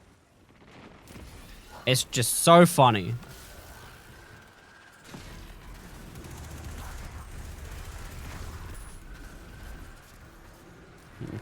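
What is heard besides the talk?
explosions in a video game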